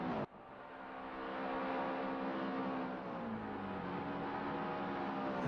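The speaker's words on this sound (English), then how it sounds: "to this man Paul Forsyth, flying through Church Bend, that crisp white car." Race car engine from a sim racing game at the Thruxton circuit, a crisp white car flying through Church Bend: a steady, loud, sustained engine drone with shifting pitch, running alone throughout without a pause.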